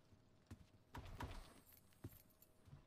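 A key is picked up in the Roblox horror game Doors, a short metallic jangle heard as several quiet clinks and rattles, faint and with no speech over them.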